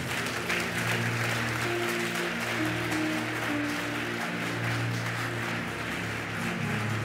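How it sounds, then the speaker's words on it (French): A church congregation applauds and cheers in praise to Jesus, a steady wash of clapping throughout over sustained organ or keyboard tones. "Donne une puissante offrande d'acclamation à Jésus."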